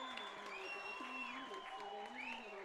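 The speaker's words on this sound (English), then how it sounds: "brings this crowd to their feet in appreciation" A crowd at a Team Canada versus Argentina junior men's ISF game applauds and cheers after a double play, a steady wash of clapping under a commentator talking.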